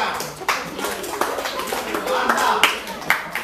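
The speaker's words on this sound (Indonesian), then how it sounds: "Ya, tepuk tangan." An audience claps after a short presentation, sharp scattered hand claps rising and falling over a few seconds, mixed with people talking nearby.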